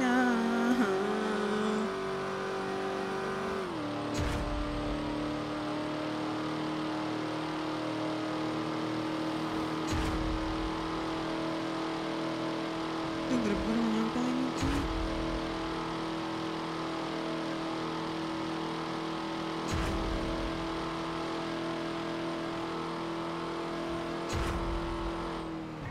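Car engine in GTA V roleplay driving, a constant loud hum that holds long stretches at high revs, dips and shifts pitch a few times, with sharp knocks and clicks now and then.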